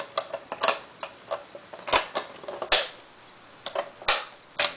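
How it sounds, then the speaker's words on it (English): The back cover of a 1958 Triumph Perfekt typewriter is fitted back on, producing a series of sharp plastic-and-metal clicks and clacks in irregular bursts, close and fairly quiet, with no talking. "let me just put the back cover back on."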